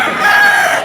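A Sweater Gilmore gamefowl rooster at a pet market gives a short, loud crow close by, lasting under a second.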